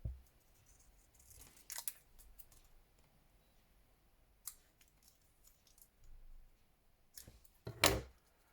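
Scissors snip through paper labels in a few brief, quiet cuts spaced several seconds apart, with faint rustling between them.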